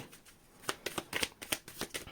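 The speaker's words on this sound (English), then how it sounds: "Last shuffle." Tarot cards are shuffled during a pick-a-card reading, giving a quick series of crisp riffling and slapping bursts that build in density toward the end, close and fairly quiet.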